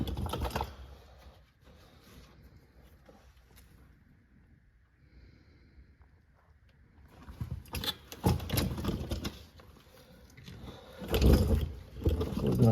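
Torque wrench tightening the oil drain plug on a Mercedes S550 to 22 ft-lb: quiet stretches, then short bursts of close, sharp ratcheting clicks, loudest near the end.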